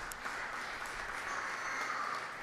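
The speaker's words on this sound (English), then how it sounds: "you all deserve a great round of applause because it's been very impressive" Applause for beautification committee volunteers at a Stratford awards event, a steady, fairly faint wash of clapping holding evenly throughout with no distinct individual claps.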